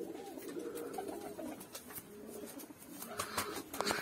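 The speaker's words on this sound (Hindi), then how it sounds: "देखो पंदुम कबूतर है।" A Kashmiri pandum pigeon coos in soft, low, repeated calls from close by, with other birds and some rustling and faint background noise around it.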